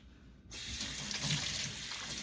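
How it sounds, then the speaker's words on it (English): Hands are washed with soap under a running kitchen tap before cooking lamb curry. Steady water streams loud and close, starting after a brief quiet moment and continuing without a break. "I'm going to give my hands a proper wash."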